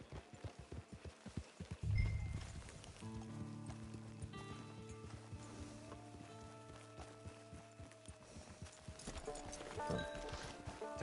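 Rhythmic clip-clop of horse hooves walking at a steady pace in the video game Red Dead Online, with a musical score playing underneath and a brief snort partway through.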